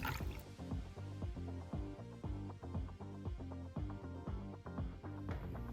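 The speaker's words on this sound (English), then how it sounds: "So we're going to pour now" A drink is poured over ice into rocks glasses in a steady series of rhythmic, pitched glugs, close and fairly quiet, with no talking.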